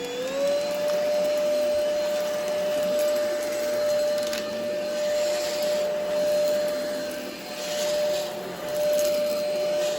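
An Easine by iLife G50 cordless vacuum runs steadily on high suction with a loud, constant motor whine and airy rush, close and continuous with slight fluctuations.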